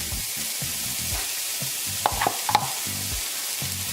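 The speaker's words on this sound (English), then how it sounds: "So now at the pan, we first start off with the sausage." Sausage sizzles steadily in a frying pan for fried rice, with a few sharper clinks and scrapes of a utensil stirring in the middle, all close and unaccompanied by talk.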